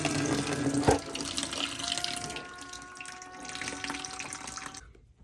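Water runs out of household pipes into a container while the lines are drained during a water softener and filtration install, a steady faucet-like gush with a brief clunk near the start that fades and stops abruptly.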